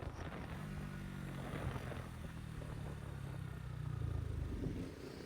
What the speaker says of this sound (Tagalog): Engine brake dito.